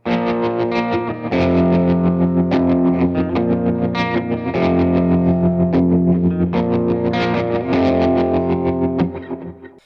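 Electric guitar run through a Mooer Trelicopter tremolo pedal, chords and notes pulsing in steady rhythmic volume swells, played continuously and alone, fading at the end.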